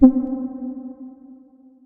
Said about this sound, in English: if I go down here, you can hear the reverb